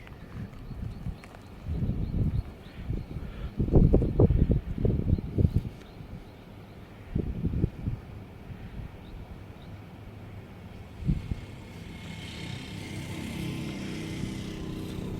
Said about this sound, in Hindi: आपको इंजन की चंगिंग की आवाज़ भी आ रही होगी